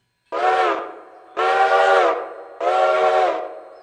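Steam locomotive whistle in the video game Railroader, three loud, close, sustained blasts of about a second each with short gaps between them.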